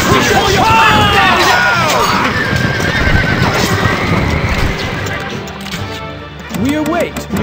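Several horses in a video game whinny and neigh repeatedly amid clip-clopping hooves and crowd babble, loud and busy, with another whinny near the end.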